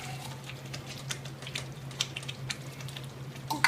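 Spaghetti meat sauce with tomato paste stirred in a hot pan, a soft sizzle and light scraping under a steady low hum, close and fairly quiet.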